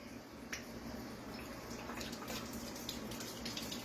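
Tap water pours steadily from a kitchen faucet, a soft, even splashing stream with faint drips, fairly quiet and uninterrupted.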